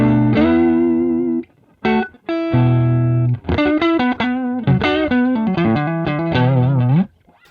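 A clean electric guitar through a Boss Katana amp on a clean patch plays a phrase of sustained notes and short chords, loud and dry with no echo, with a couple of brief pauses.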